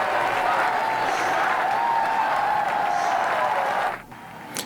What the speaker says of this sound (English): You hear the cheers and applause, but you don't know who it's for.